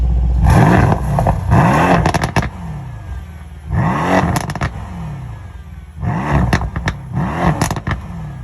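Mercedes-Benz C-Class engine revving: three bursts of loud, close revs, each rising and falling with crackling pops and clatter from the exhaust, separated by brief idle gaps.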